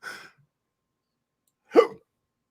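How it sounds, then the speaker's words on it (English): Two sharp, isolated hiccups about a second and a half apart, close and fairly loud against silence. "They got the hiccups."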